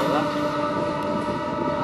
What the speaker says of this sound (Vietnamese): Đây là xe lửa.